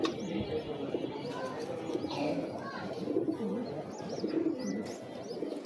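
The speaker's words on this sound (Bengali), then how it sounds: "এটা হচ্ছে নর কৈতর।" Faint, repeated low cooing from a male pigeon, with soft background chatter and rustling around it.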